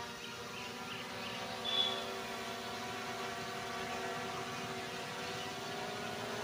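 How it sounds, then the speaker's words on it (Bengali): A DJI Mini 3 drone hovers in windy conditions, making a faint, steady high-pitched whine that persists evenly throughout, with a brief louder bump near the start. "ড্রোনটা কিন্তু এখন উড়বে, দেখেন।"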